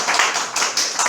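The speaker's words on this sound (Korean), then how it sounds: "박수로" Applause from a church congregation, a dense, steady patter of many hands clapping close by for just over a second with no voices.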